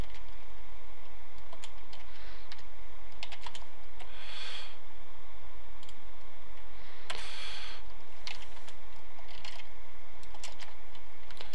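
Computer keyboard typed on while configuring a network switch, a steady run of close, crisp key clicks with occasional louder strokes over a constant background hum.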